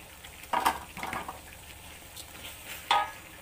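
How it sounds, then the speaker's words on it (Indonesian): Fried tempeh, tofu, shrimp, red chili and onion dropped into a pan for sambal goreng, giving a few soft clattering scrapes and brief sizzles spaced over a few seconds at low level. "Kita letak bahan-bahan kita tadi ya. Tempe, tahu, udang, cili merah dan bawang yang digoreng tadi."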